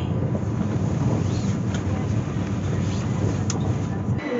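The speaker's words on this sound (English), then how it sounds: "We are on the Eurostar back to London." Steady rumble of a Eurostar train travelling back to London, a constant low drone with faint rattles throughout and no talking.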